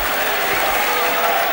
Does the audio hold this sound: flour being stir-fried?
no